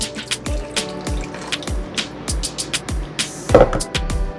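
Water pouring into a pot in a steady trickling stream, close by, with a few clinks and splashes.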